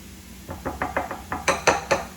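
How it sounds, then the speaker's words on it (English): Chopped zest stirred into a pan alongside cooking mushrooms for poblano pepper tacos, a quick run of about eight close metallic clinks and scrapes from utensil against pan, growing louder toward the end, with no talking. "So I'm going to go ahead and stir that in here while we're waiting for our mushrooms."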